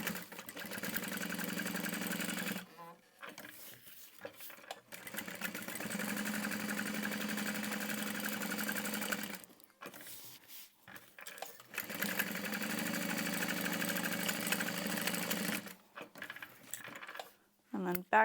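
Sewing machine back stitching the corners of a small fabric bag, running in long steady stretches of fast whirring stitches broken by short pauses as the stitching direction reverses, close and fairly quiet.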